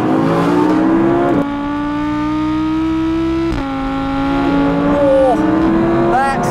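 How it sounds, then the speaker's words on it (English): A loud, high-pitched Audi R8 V10 Plus engine revs up toward 8,500 RPM and holds a sustained scream, drops briefly, then climbs again with sharp blips, close and dominant. "Oh, that is a proper supercar noise"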